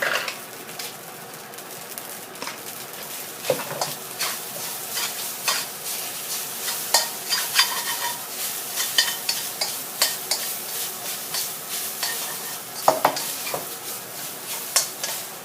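Old-style egg fried rice is stir-fried in a pan, with a soft steady sizzle under repeated sharp scrapes and clinks of a spatula against the pan, close and without talk.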